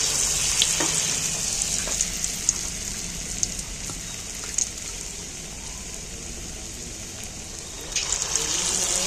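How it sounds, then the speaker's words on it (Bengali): Battered pieces fry steadily in hot oil with a dense, continuous sizzle, broken by occasional crackles and soft clinks as more pieces drop in, with no talking. "আবারও আমি বাকি বাটারটার মধ্যে দিয়ে তেলের মধ্যে তুলে দিচ্ছি।"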